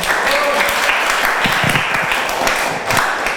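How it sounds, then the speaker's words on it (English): Lively applause from an audience in a teaching session hall, close and loud, with dense clapping throughout and a few murmuring voices mixed in beneath the hands. "Give applause once again to them."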